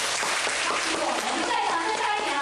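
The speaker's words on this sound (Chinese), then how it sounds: "我很谢谢我们给我们今天的总干事掌声一下吧" Applause from an audience at a volunteer training camp for scripture-reading, a steady dense patter of clapping filling the room with some voices mixed in.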